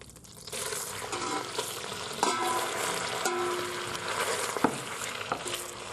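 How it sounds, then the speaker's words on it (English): Beef, onions and garlic searing in melted butter in the pot of a Supreme Precision 3 in 1 slow cooker, giving a constant close hiss with occasional stirring knocks. "So we're just going to seal the meat in the cooking vessel"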